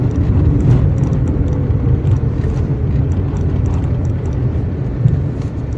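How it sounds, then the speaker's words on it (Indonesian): Heavy Saturday traffic in Jakarta rumbles around a car stuck in a jam. A steady low engine and road drone is heard from inside the cabin, with faint scattered higher noises and no talk. "Wah, di hari Sabtu luar biasa macet ternyata"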